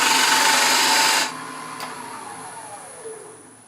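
A parting tool cuts straight into spinning wood on a lathe, a loud steady whirring scrape for about a second that then stops, leaving the lathe's quieter hum winding down alone.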